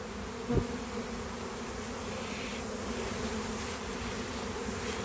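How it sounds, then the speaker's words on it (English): A dense, steady drone of a large honeybee swarm, about ten pounds, buzzing at once, close and constant, with a brief thump near the start. "the idea is to get those bees started into this box here"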